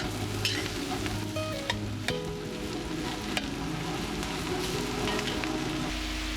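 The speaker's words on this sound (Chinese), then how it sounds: "加入菌菇，然后翻炒均匀" Mushrooms, onion and carrot stir-fried in lard or cooking oil in a pan: a steady sizzle with repeated scraping and stirring strokes, near and continuous throughout, with no talking.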